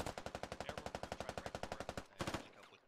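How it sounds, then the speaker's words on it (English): Suppressing automatic gunfire in the Squad video game, a fast, steady burst of about two dozen evenly spaced shots for two seconds, then a brief louder rattle and fading echo; fairly quiet and without talk. "Wayne Newton putting down some suppressing fire over on Daniel and Top Bun"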